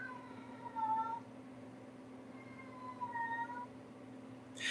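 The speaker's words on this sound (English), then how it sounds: "Yeah, that's the cat, man." A cat meows twice, two drawn-out cries spaced a couple of seconds apart, close by over a steady low hum, with no one speaking.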